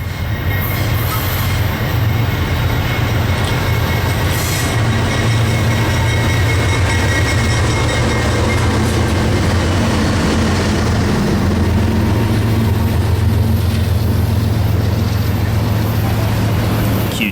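A loaded freight train led by CW40-8 locomotive 7809 rolls past milepost OWNA 15.0 on the way into Atlanta, a loud continuous roar of engine rumble and wheels on rail with a faint high squeal and no talking.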